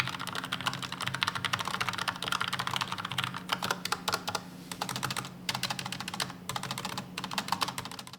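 Rapid, steady typing on a Logitech low-profile mechanical keyboard with linear red switches, a dense run of soft, close clicks and clacks with brief pauses, and no voices.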